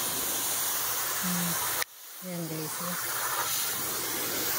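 Water sprays in a steady hissing jet onto a dirty window-type air conditioner during a deep cleaning. The spray cuts off abruptly partway through, then resumes under a speaking voice.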